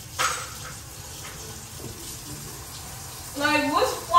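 Tap water runs into a sink in short gushes, one near the start and a louder burst at the end, with people talking nearby.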